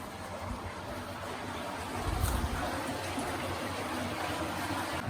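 Water trickles steadily from an overgrown spring beneath a stone dovecot, a continuous watery wash close by with a brief louder gush midway.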